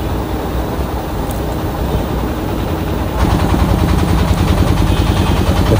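Motor boat engine on a boat ride across Chalan Beel wetland in Natore, a steady droning rumble that holds close and continuous, then grows noticeably louder and rougher midway, with no talking.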